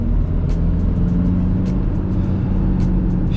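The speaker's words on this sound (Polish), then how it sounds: "Silnik fajnie chodzi, że żadnego jakiegoś głupiego dźwięku nie wydaje" A 2007 SEAT Leon II with a 2.0 TDI 140 hp diesel engine heard from inside while driving, a steady low drone with road rumble and faint ticking, loud and continuous throughout.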